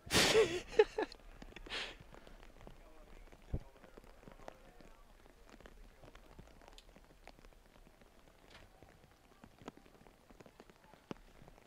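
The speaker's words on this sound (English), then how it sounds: "the elements, which, again, is something between rain and snow at this point" Rain and sleet falling on an open soccer stadium during a Real Salt Lake versus New England Revolution match, a dense spattering of faint, irregular drops and ticks across the whole stretch, with a louder rumble at the start.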